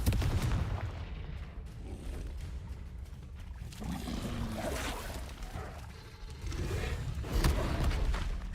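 A Confringo fire spell blasts in Hogwarts Legacy, a loud booming burst over continuous game rumble and crackle, with further impacts and a heavy hit near the end.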